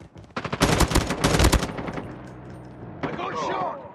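Rapid bursts of automatic gunfire in a Call of Duty match, loud and close, tapering off into rumbling echoes while a voice speaks near the end.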